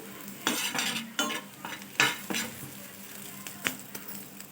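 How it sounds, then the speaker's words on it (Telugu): Spatula stirring through sizzling egg manchurian as salt and chili powder are mixed in, giving a run of scraping strokes over a steady frying hiss, with a sharp utensil clink partway through. "ఒక సగం స్పూన్ ఉప్పు వేసుకొని కలుపుకోవాలి"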